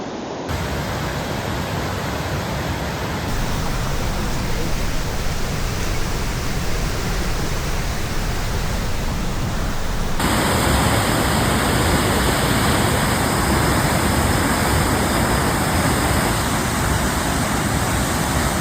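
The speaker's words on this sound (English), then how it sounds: "So this is the upper falls." Upper falls waterfall on Vancouver Island on a rainy day, a loud steady roaring rush of water that fills the whole scene without letting up.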